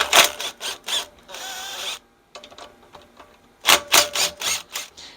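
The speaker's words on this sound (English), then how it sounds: "There's three 10mm nuts here I'm going to be removing from the carburetor cover. I'm going to go ahead and use my impact here" A power impact driver spins off 10mm nuts from the carburetor cover of a Honda GX120 engine on a Trucut edger, giving repeated short bursts of rapid hammering ratchet sound, close and loud, with brief pauses between the nuts.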